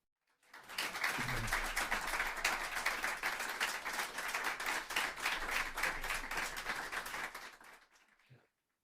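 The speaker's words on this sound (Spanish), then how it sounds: "les pido un aplauso para ella" Audience applause for Dr. Leticia Sánchez Reyes, an endocrinologist, at an obesity and hypertension symposium: dense clapping fades in, holds steady for about seven seconds, then tapers off, with no voices over it.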